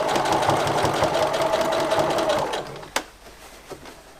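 A sewing machine stitches a backpack seam in a loud, steady, close whirring run for about two and a half seconds, then stops, followed by a sharp clunk and a softer knock.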